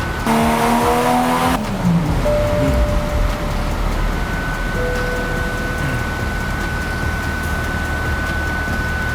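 A Toyota A90 Supra fitted with an AEM intake roars on a dynamometer, engine loud and close, with a rising whine after a sharp burst at the start, then holding a steady high drone throughout.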